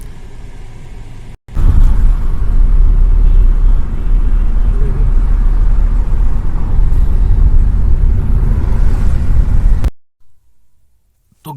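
A Tata Nexon petrol car drives along a road, a loud continuous engine and tyre rumble heard from inside for about eight seconds, then stopping abruptly into near silence.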